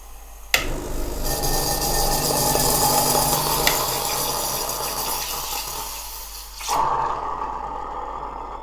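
Hot water from a Gaggia Classic Pro espresso machine fitted with a PID kit, a loud, steady hissing gush that starts with a sharp click, runs several seconds, then cuts off and leaves a quieter hiss.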